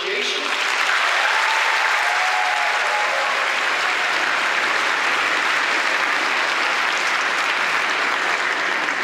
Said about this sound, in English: Can we please give a round of applause to show our appreciation?